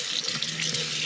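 Tap water runs steadily into a stainless steel sink in an RV, a continuous close splashing hiss with no break.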